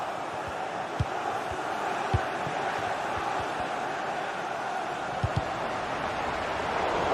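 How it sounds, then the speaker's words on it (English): A stadium crowd in a video game roars in a steady, dense wash of cheering, with a few faint thumps poking through the continuous noise. "The crowd certainly think so. Just listen to them."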